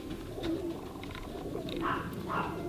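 Breeding pigeons coo softly, with a few low, throaty calls rising over a steady murmur of background noise at close range.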